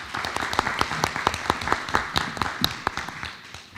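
Applause from an audience at a school board of education meeting, a small crowd clapping at an uneven steady pace, close and dry, with no talk over it.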